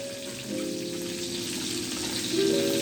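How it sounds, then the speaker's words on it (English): Sausage patties fry in a pan with a steady close sizzle and crackle that swells slightly toward the end, with no talking. "I use a metal spatula when cooking sausage patties"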